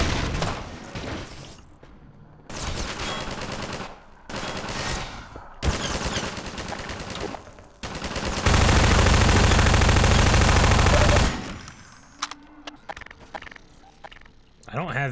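Sniper fire and other gunshots from Half-Life 2: Episode 1 come in loud, sharp bursts separated by short gaps, with one long dense barrage partway through. Game sounds play alongside the shooting.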